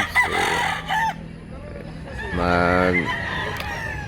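A rooster crows at a busy rural livestock market in Mantalungon, Cebu, one clear crow standing out amid crowd noise, with people talking nearby before and after.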